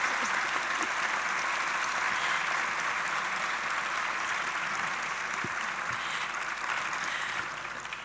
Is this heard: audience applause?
yes